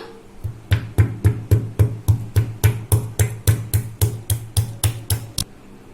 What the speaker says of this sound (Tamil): இஞ்சியை நல்லா இந்த அளவுக்கு தட்டி எடுத்துக்கணும்